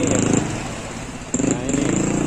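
A motorcycle idles in floodwater with water in its exhaust, producing a close, loud, sputtering putter that dips briefly and then picks back up, with no clear talking.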